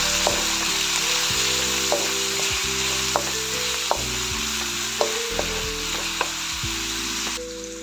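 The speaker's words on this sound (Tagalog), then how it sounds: "At isunod ko na agad itong ating sibuyas. Hahaluin ko muna natin." Onion sautéing in a pan with garlic, sizzling steadily and close while a utensil stirs it in sharp clicks and scrapes against the metal.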